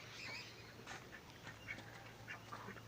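Ducks quack in a backyard coop where ducks and hens are kept below a goat pen, giving a string of faint, scattered quacks over a low steady hum.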